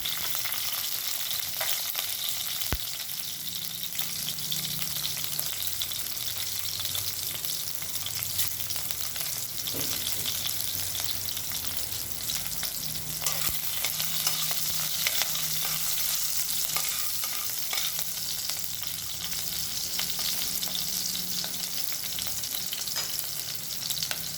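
Coriander and green chillies fry in hot oil, giving a dense, steady sizzle and crackle with occasional sharp pops and faint stirring clatter, close up, with no talking.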